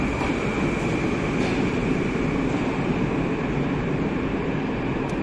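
A Moscow metro train, the Moskva-2020 model on the Big Circle Line, rumbles steadily as it departs the station, a loud continuous roar of wheels and motors with a faint high whine, no voices.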